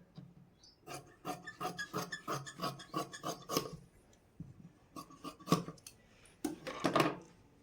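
Scissors snip through fabric for the front panel of a blouse in quick bursts of short crisp cuts, close and fairly quiet, with brief pauses between runs.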